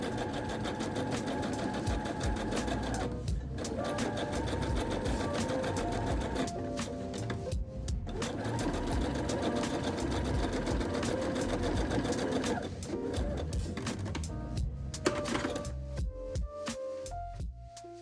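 A sewing machine runs a basting stitch through denim for a Simplicity S8844 patchwork blazer, a steady close whirring hum with a few brief pauses between bursts of stitching.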